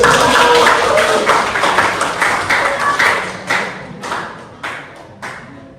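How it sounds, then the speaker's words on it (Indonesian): Classroom applause for a student group after their presentation: a dense burst of clapping that thins out into scattered, separate claps toward the end. "Oke, beri tepuk tangan dulu untuk"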